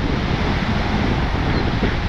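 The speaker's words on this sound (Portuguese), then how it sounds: "Muito vento." Strong wind at a lake in the Seven Lakes region, blowing as a steady, loud, broadband roar against the microphone with no pauses and no speech.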